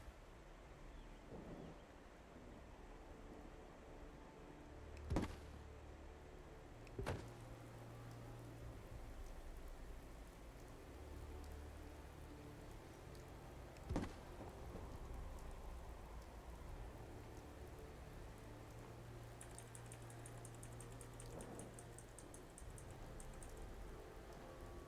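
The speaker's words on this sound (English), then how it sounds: "It's raining." Steady rain falls in the video game Fallout 4, a soft continuous patter, with a few sharp isolated knocks standing out now and then.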